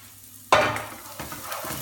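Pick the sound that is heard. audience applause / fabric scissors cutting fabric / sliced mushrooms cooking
sliced mushrooms cooking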